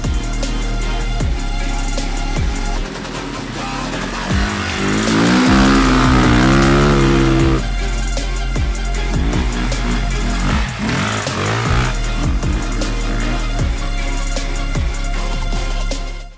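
A Sur-Ron Light Bee electric motorcycle rides along a winding trail, its motor whining up and down in pitch as it accelerates, with loud rattles, thumps and tire noise over rough ground.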